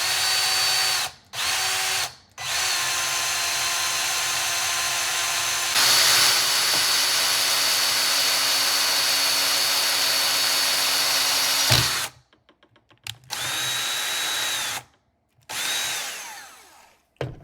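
A power drill whines loudly in long bursts while drilling a hole in metal, stopping and restarting several times, with a grinding bite as the bit works through.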